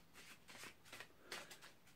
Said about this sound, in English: Then I gave the cards a bit of a shuffle,